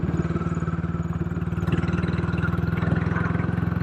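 A Royal Enfield motorcycle engine thrums close by at a steady low speed, its even pulsing beat continuous throughout, with no talking.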